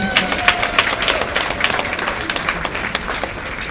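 A crowd at a public gathering claps loudly and steadily, a dense run of applause with a few faint voices mixed in.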